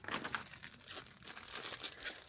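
A small plastic packet is torn and opened by hand, with close, crisp crinkling and crackling bursts in quick irregular succession.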